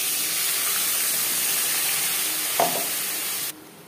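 Ginger and green chili paste frying in hot oil with a bay leaf and five-spice tempering, a loud continuous hissing sizzle with one brief scrape near the end before it cuts off.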